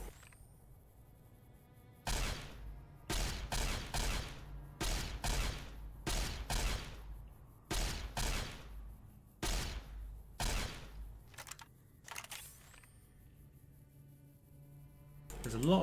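Gunfire in Fallout New Vegas during a fight with rat scorpions: a burst of rapid shots in several clusters, loud and close, with short pauses between volleys.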